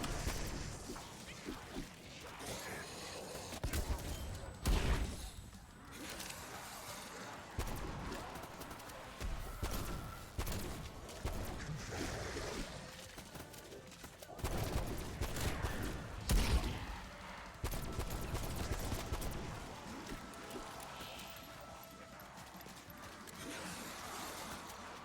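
Gunfire from a six-shooter magnum blasting zombies in Cold War Zombies, with loud dense bursts of shots, thuds and crashes mixed with game sounds through most of the stretch.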